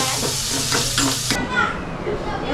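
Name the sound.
finely chopped onion frying and being stirred in a pan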